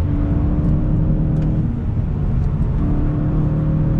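A 2021 VW Golf GTI with a six-speed manual drones loudly and steadily as its engine pulls hard under acceleration toward redline, a sustained close engine roar with no talk over it.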